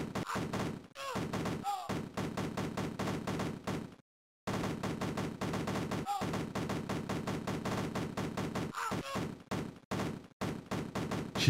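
Rapid bursts of gunfire from the Cannon Fodder 2 video game, dense repeated cracks firing almost nonstop with a few brief pauses, loud and close, with no voices over it.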